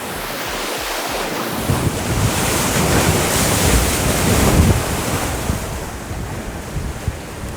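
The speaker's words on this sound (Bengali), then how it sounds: "আর সমুদ্রের আওয়াজ তো মানে ভয়ঙ্কর পুরো" Sea waves crash and surge continuously on a beach at Vizag, a loud, steady roar of surf mixed with gusting wind noise on the microphone, with no voices.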